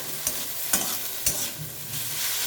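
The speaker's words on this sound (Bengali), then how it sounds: "দিয়ে আবার একটু ভালোভাবে নাড়িয়ে চাড়িয়ে" Red amaranth leaves (lal shak) are stirred in a frying pan after salting, with three sharp scrapes of a utensil against the pan over a quiet background sizzle and no talking.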